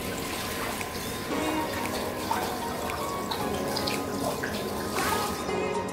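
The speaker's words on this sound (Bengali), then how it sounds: "হাত ধোয়া হয়ে গেল, হাত এখন পরিষ্কার" Hands are washed under a running kitchen tap, a steady, close rush of water that continues unbroken for the whole stretch with faint splashing.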